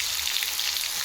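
Cumin and mustard seeds hit hot oil in a pan as a tempering for idli sambar, giving a loud, steady, close-up sizzle and crackle with no talking.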